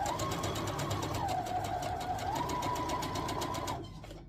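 Sewing machine stitching a long jelly roll quilt seam, a steady fast even whir with rapid regular needle clatter throughout, close and loud, slowing and stopping near the end.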